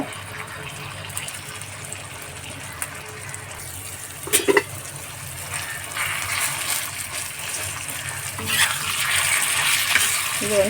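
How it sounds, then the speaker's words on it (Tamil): Octopus (kadamba) tawa-frying in hot oil, a steady sizzle and bubbling hiss throughout, with a brief louder stir or clatter partway through and the frying growing slightly louder toward the end. "இதை நம்ம அப்படியே போட்டு தவா ஃப்ரை பண்ண போகிறோம்."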